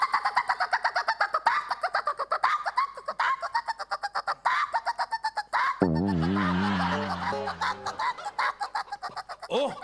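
A man imitates a cuckoo's call in a comedic sketch, a run of rhythmic whistled hoots repeated quickly, broken by a brief burst of laughter and a warbling mock bird note before the calls resume.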